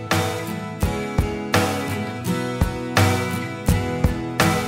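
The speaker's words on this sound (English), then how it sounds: "Let's put on the GTR tool rack." A guitar part in a music mix, set by automation to switch between acoustic and electric tones, plays as a rhythmic series of bright strummed chords, each hit sharp and ringing, loud and up front.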